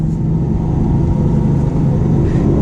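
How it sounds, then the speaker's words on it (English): A Lamborghini Aventador with a nearly 700-horsepower engine downshifts to second gear and automatically rev-matches, giving a loud, close, steady engine rumble and drone with no voices over it. "We're going to downshift it to second, and rev matches for us"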